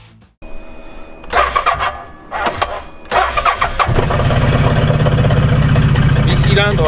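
A twin-cylinder 800 cc motorcycle engine cranks in several short bursts, then catches and settles into a steady, loud idle close by.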